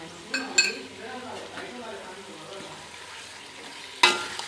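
Chicken curry being stirred in a pan, with a couple of clinks from the spoon against the pan near the start and again near the end, over a soft steady simmer.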